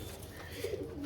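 A single pigeon from a home breeding flock coos softly once, a low brief call heard close against a faint background.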